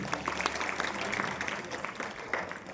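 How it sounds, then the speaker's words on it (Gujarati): An audience at a high school poetry recitation competition gives fairly soft, continuous applause, a dense patter of clapping with some voices mixed in. "એને જોરદાર તાળીઓથી વધાવીએ."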